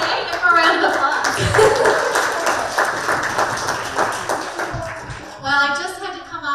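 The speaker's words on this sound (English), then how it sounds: "Give him a round of applause" Wedding guests applaud the MC at a reception, a dense patter of clapping that runs most of the way through before voices take over near the end.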